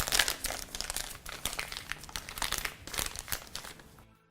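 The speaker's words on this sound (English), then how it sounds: "Now we put it in our piping bag." Royal icing goes into a plastic piping bag with a run of close, brisk crinkles and rustles as the bag is handled and squeezed, fading out at the end with no speech.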